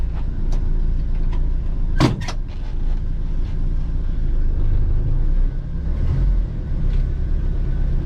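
A Jeep Wrangler YJ with an AX-5 manual transmission driving on the road, a continuous low engine rumble and road noise from inside the cab, with a couple of brief clunks and rattles as it shifts.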